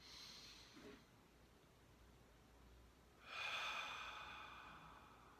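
A single deep breath drawn in, soft and close: a faint inhale early on, then a stronger, breathy airflow rising after a short pause and holding to the end, with no talking.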